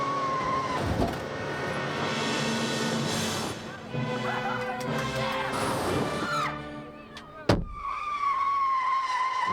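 A driverless bus skids along with loud, sustained tire squeal and engine roar, ending in a sharp crash-like bang before the screech resumes, with voices shouting over it.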